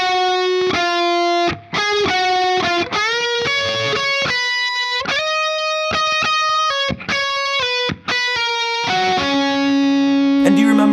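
Distorted electric guitar plays the second half of the solo, a quick run of sustained, bending notes with brief gaps, ending on a held chord, loud and alone without talk.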